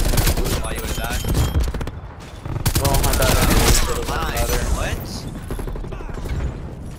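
Bursts of automatic gunfire from an RPD light machine gun and other weapons in Call of Duty: Black Ops Cold War, loud rapid rattling that breaks off and resumes, with voices talking alongside.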